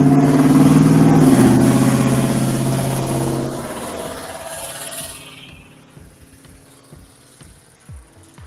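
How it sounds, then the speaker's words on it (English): A loud old 1972 Ford pickup with an extremely loud exhaust drives past, its rough engine roar strong at first and then fading steadily into the distance. "My local redneck with his extremely loud exhaust on his old 72 Ford pickup that just went by."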